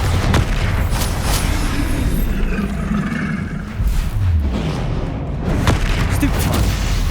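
Loud booming spell blasts from Confringo and Bombarda in the Hogwarts Legacy video game, with repeated explosive bursts and a rumbling roar over dense combat noise, while a voice calls out over the action.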